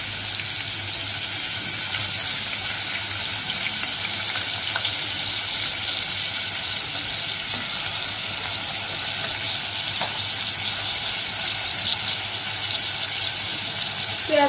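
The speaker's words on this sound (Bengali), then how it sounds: "এখন আমরা তেলের মধ্যে পেঁয়াজগুলো ছেড়ে দিলাম।" Onions frying in hot oil for a Chapila fish curry with potatoes, a loud continuous close sizzle that holds steady throughout.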